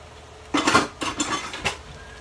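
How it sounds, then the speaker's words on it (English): A utensil scrapes and clatters as squash is stirred in a pan that is too small, giving a few close, loud scraping strokes over a faint background hiss. "So I'm just stirring the squash in now,"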